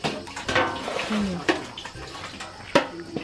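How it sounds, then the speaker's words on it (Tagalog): Strong water gushing from a natural spring near a house, heard as a close, irregular splashing flow with several louder bursts over a continuous rushing bed. "Lakas ng bukal guys, oh."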